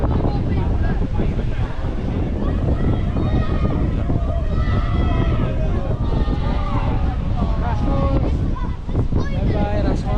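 Very strong wind in Manchester buffets the microphone with a steady, loud roar and rumble, while people talk underneath the gusts.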